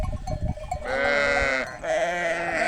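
Sheep and lambs kept in a snowy barn in Konya during harsh winter weather bleat loudly and close by, with a short cry followed by two long wavering calls.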